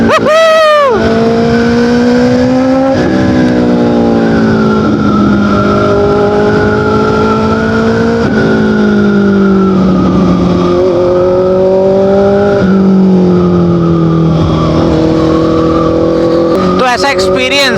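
A motorcycle fitted with an Austin Racing exhaust rides along New Zealand roads, its engine droning loud and close with repeated rises in pitch as it accelerates through gears, separated by brief dips at each shift.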